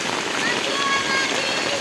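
Rain falls steadily on surfaces in a dense, even hiss of close patter, loud and unbroken for the whole short stretch, with no talk over it.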